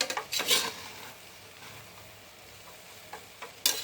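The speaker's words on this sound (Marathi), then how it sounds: "परतवून घ्यायचा छान असा वर खाली" A utensil scrapes and knocks in a pan as egg rice is turned over, a few close clatters at the start and end with quiet sizzling in between.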